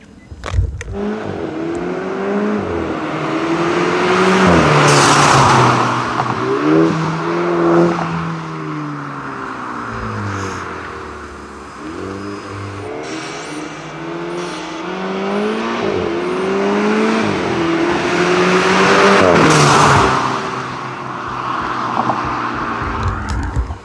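Volkswagen Polo with a valved exhaust being driven, a smooth, moderately loud engine note rising and falling through gear changes and accelerations, heard from outside without talk.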